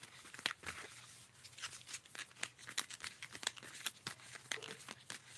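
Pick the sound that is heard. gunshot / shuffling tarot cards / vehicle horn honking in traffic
shuffling tarot cards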